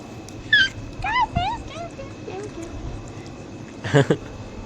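A puppy gives a few thin, high whimpers and short yips, close by, with a faint murmur of household noise around it and a voice briefly audible near the end.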